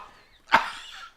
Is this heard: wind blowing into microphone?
no